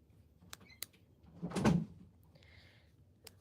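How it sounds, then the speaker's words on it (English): A door being shut indoors during a live stream gives one dull, muffled thud with a short rattle, set between faint clicks and a quiet high whine. "Can you shut the door?"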